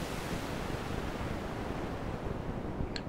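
Synthesizer noise with the high cutoff lowered so the top end rolls off, leaving a darker, rumbling steady hiss like surf, continuous and even, with a tiny brief blip near the end and no talking.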